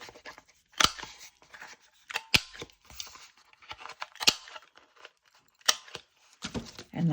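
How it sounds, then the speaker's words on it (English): A corner rounder punching the corners of a large flash card, sharp close clicks and crunches at irregular intervals with handling rustle and paper crinkling between them, no talk. "I'm going to round the corners on the big card."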